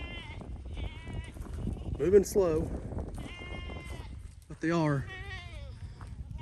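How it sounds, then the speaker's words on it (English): Goats on a farm, one of them recovering after a rescue, let out two distinct wavering bleats, while people talk quietly nearby over low background noise. "let's go take one last look at the goats"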